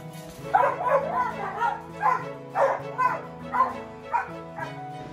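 Several pet dogs bark and yip in a rhythmic series of loud, close barks, about eight or nine bursts, with a faint whimper at the start.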